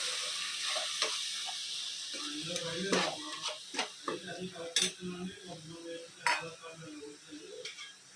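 Green chillies, mint and coriander frying in oil for veg pulav give a soft sizzle under repeated spoon stirs and metallic clinks against the pan, with a voice speaking quietly at times.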